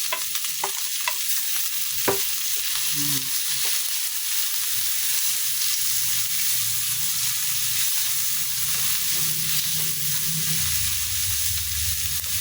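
Onions, tomatoes and vegetables for pinakbet sizzle and fry in a pan, a constant hiss broken by scraping stir strokes and clanks of a utensil, close and steady with no voices.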